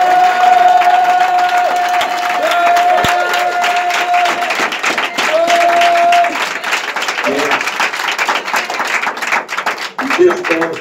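A church congregation bursts into loud, sustained applause and cheering, with steady clapping filling the room over held musical tones and a voice speaking through it.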